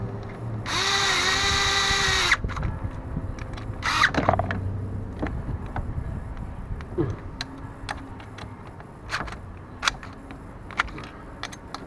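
A power tool drives a bolt while a 2004 Ford Focus wiper motor is replaced. A loud whirring burst of under two seconds is followed by a short second burst, then quiet ticks and handling clicks.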